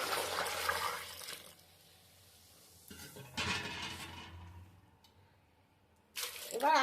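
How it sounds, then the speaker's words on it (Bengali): Fresh water pouring into a wok over shredded potatoes for rinsing, coming in bursts of close, splashy gushing separated by quieter pauses, with a final loud splash and light clatter at the end. "ধুয়ে প্রথম জলটা ফেলে দিয়েছি আরও আমি নতুন করে জল দিচ্ছি"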